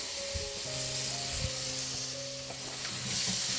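Onion, ginger and garlic sizzling steadily in a pan, a continuous close frying hiss with occasional spoon clinks and scrapes from stirring.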